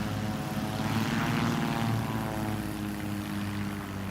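Steady propeller-engine roar from a STOL aircraft landing at a STOL competition in Gallatin, Tennessee, loud and continuous with a broad rush as reverse pitch propeller thrust slows it.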